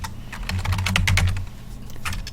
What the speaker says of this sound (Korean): 사용자명은 시스템이라고 입력하시면 돼요